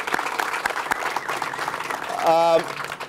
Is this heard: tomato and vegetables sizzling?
no